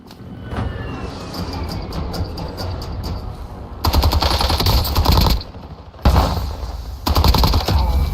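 Heavy automatic gunfire in the video game Call of Duty Warzone, loud machine-gun bursts starting and stopping in several long volleys, with brief gaps between, over a rumbling battlefield backdrop.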